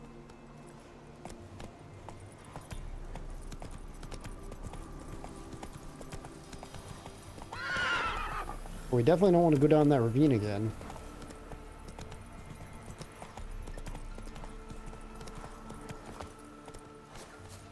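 A horse in The Witcher 3 trots with steady clip-clop hoofbeats under quiet background music, then lets out a loud, close, wavering neigh midway; a character speaks briefly.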